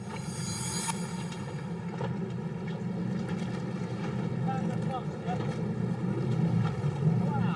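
A boat sits on open water as a diver surfaces nearby, with a steady motor-like rumble, gusting wind buffeting the microphone and lapping water throughout.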